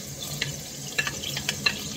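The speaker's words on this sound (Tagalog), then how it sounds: "So, isusut natin yung vegetables na na-slice natin guys. Ayan. yung garlic. Ilagay natin guys." Sliced vegetables and garlic sautéing in a home kitchen pan, a soft steady sizzle with a few scattered clicks and scrapes of stirring, fairly quiet and without talk.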